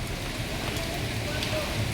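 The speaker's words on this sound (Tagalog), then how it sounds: "Malakas ang ulan." Heavy rain pours steadily during a storm over a barangay hall under construction, a dense, even hiss that holds without a break and drowns out any nearby voices.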